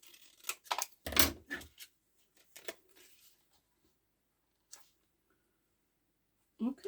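Scissors snip through paper while trimming pages for a handmade altered book, a quick cluster of close crisp cuts early on, then a few isolated snips after quiet gaps.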